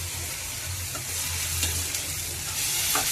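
Mango pieces fry in a pan with onion masala, giving a continuous close sizzle and a few soft stirring scrapes.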